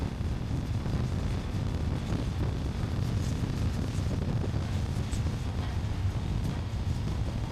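Steady wind roar from riding a motorcycle on the interstate fills the whole stretch, a constant buffeting rush with no pauses and no voices.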